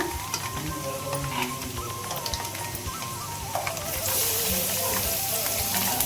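Puffed rice (mandakki) fries in a pan for a spicy snack, giving a steady, moderate sizzle with light crackling and occasional stirring sounds close by.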